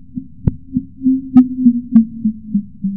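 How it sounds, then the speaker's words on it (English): A repeating radio signal from deep space, picked up by the CHIME telescope and rendered as sound: a low sustained drone with soft pulsing thumps and a few brief sharp clicks, heard alone. "A creepy night-like sound from deep space."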